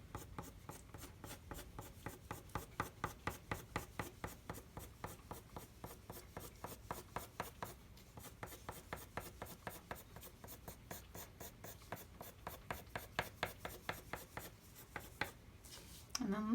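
Pencil or crayon scratching out grass on paper, a long run of quick, regular short strokes with a steady rhythm, close and fairly soft, ending with a brief louder bump.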